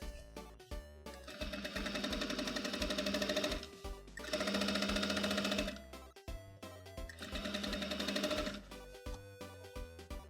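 A sewing machine runs in three long, steady bursts, stitching a pant leg along a new tapering line, with short pauses between runs and no voices.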